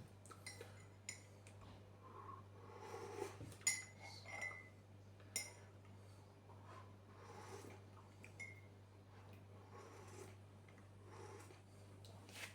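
Light metallic clinks of a spoon against a cup, scattered and fairly faint over a steady low hum, with occasional soft rustles.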